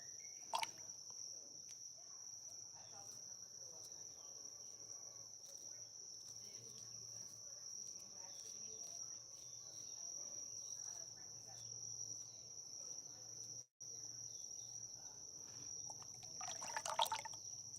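Outdoor insects chirp in a constant, high, steady drone on a rural three-acre homestead, faint and continuous across the whole stretch, with occasional soft rustles and a brief louder noise near the end.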